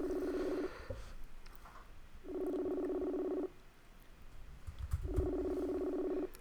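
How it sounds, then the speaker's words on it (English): A telephone ringback tone repeats over a call line, two long buzzy rings separated by a gap, moderately loud with faint background rustle and no answer. "that's the sound of someone not picking up his phone"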